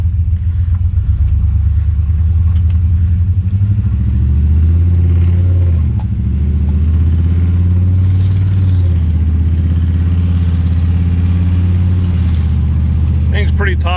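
Tuned car engine of the KTL Restorations-built Project Artemis, a top-heavy vehicle with a loaded roof, droning steadily with a deep loud rumble while driving on the road, pitch rising and dipping slightly as it accelerates.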